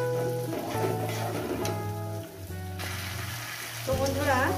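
Spice paste for a potato and parshe fish curry frying in a pan, a soft, steady sizzle running under background music.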